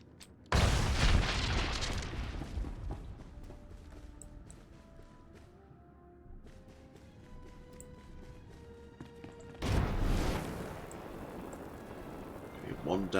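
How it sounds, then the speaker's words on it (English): Proton torpedo explosions in Star Wars: The Old Republic, two loud booming blasts with rumbling decay, one near the start and another near the end, separated by quieter game tones. "Time to stick this proton torpedo down the barrel."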